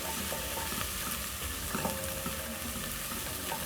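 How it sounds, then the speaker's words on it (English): Onions frying in a pan with crushed garlic and ginger paste for beef pilau hiss and sizzle steadily, with soft scraping stirs from a spoon heard close up and nobody speaking. "Then we're going to let the onions cook together with the garlic and ginger until brown."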